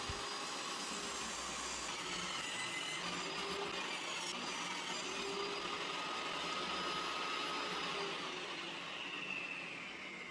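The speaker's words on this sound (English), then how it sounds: "I'm going to bring that over to the table saw, cut off the round over" A table saw runs steadily through 2x6 wood, cutting off a rounded-over edge, making a loud, continuous whine with a broad noisy roar that holds for the whole stretch, with no talk.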